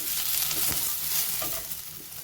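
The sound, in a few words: ginger slices, garlic and curry leaves sautéing in a pan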